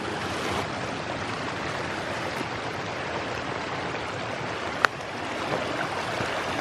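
A river flows steadily at a backcountry crossing during a backpacking trip near Hayden Lake at dusk, a continuous broadband rush heard close and alone, with one brief sharp click partway through.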